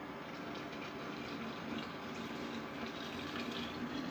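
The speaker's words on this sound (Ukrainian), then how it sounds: "І просто беру і заливаю окропом." Boiling water poured over mulberries in a jar for compote, a steady rushing, gurgling stream heard close and unbroken for the whole stretch.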